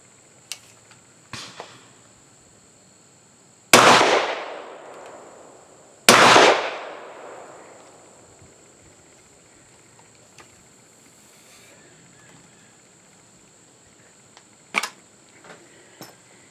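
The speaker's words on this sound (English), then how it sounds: "It's a double barrel shotgun made in the early 1900s" An early-1900s Ithaca hammerless double-barrel 12-gauge shotgun fires two loud, sharp blasts outdoors about two seconds apart, each trailing into echo. Faint clicks and handling noises come before and after the shots.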